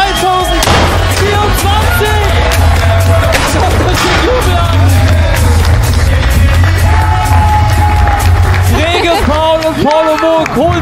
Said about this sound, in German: Schaut euch den Jubel an!